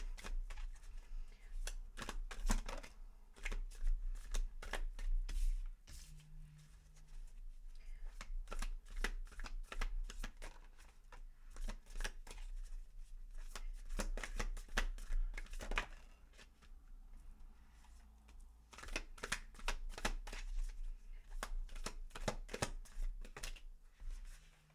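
A deck of tarot cards is shuffled by hand in quick repeated bursts of riffling and flicking, close and fairly quiet, with short pauses between bouts and a low room hum underneath.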